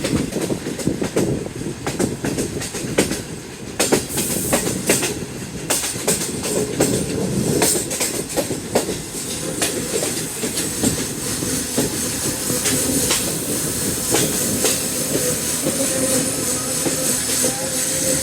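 Rail cars rolling and clanking along tracks during shunting, with a locomotive attached to move a rail car on a Pakistani metro line in cold, smoggy weather; a steady, loud rumble runs throughout with irregular metallic clicks and knocks.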